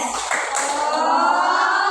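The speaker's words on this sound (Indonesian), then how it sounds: "Kita mulai tepuk fokus" A classroom group claps the Indonesian "tepuk fokus" rhythmic clapping pattern, a short burst of sharp claps up close, with voices sounding along with it.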